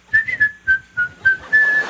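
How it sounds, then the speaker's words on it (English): A person whistles a short tune of about seven clear, close notes in a bouncy rhythm, with faint background noise. "you guys whistle when you work"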